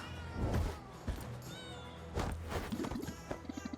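A white cat in a video game meows a few times in short, plaintive calls, close and fairly quiet, with soft thuds and game sounds around them.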